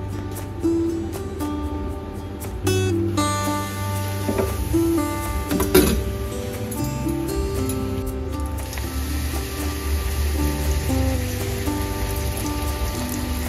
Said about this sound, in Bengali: এবার চলো একে একে পাঁপড়গুলো ভেজে নিই।